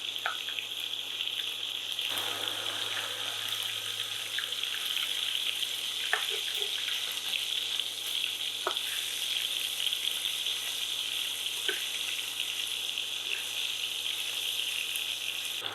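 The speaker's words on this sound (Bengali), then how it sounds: "মাছগুলো এক পাশে ভাজা হয়ে গেলে অন্য পাশে ভালোভাবে ভাজা হওয়ার জন্য মাছগুলো উল্টিয়ে দিতে হবে" Loitta fish fry in an oiled pan, a quiet, steady hiss of sizzling oil throughout with a few scattered clicks and pops from utensils, close by and without speech.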